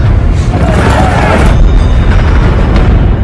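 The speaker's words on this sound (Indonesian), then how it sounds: "dinamit pun langsung ia ledakan" A dynamite explosion in a western film, a loud, deep boom with a rumbling, crackling blast that holds at full force for about three seconds.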